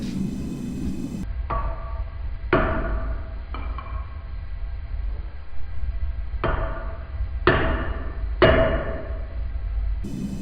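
Sharp metallic hammer strikes on a knife blade being rough-shaped ring out one at a time at uneven intervals, each blow leaving a brief ringing tail over a low background rumble.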